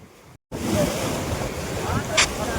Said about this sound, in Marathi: ही कानोळा नदी एकदम जोरात वाहत आहे